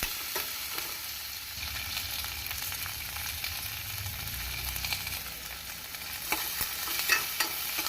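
Onions sizzle softly in a pan for a banana flower curry, with occasional stirring scrapes and clicks, fairly quiet and continuous.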